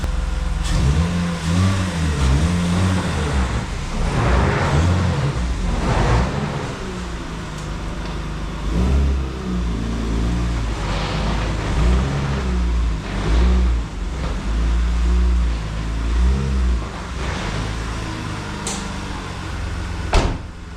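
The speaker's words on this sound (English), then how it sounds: "I'm gonna just do this maneuver quickly because I don't want it to stall out." BMW E36 325i running through a quick low-speed manoeuvre, a steady loud idle hum with a few revs rising and falling, and clunks and knocks from the car nearby.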